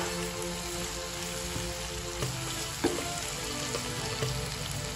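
Chopped spring onions frying in a pan of green-chilli thecha chicken dry curry, a steady dense sizzle throughout with a few faint stirring knocks.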